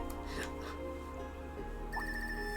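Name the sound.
phone ringing in the video game Trails of Cold Steel 3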